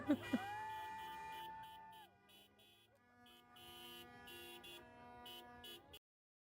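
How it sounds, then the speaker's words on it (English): Car horns honk out on a city street, several beeps layered and overlapping, some long and steady, others short, ringing out loud over the rumble of traffic and music. "there's no reason for anybody to be beeping like that"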